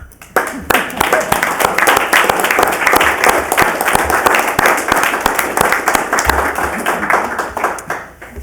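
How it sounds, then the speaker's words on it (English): Audience applause fills a city council meeting chamber, a steady wash of many hands clapping at close range that swells quickly, holds for several seconds and tapers off at the end. "Now, this is where you are allowed to clap"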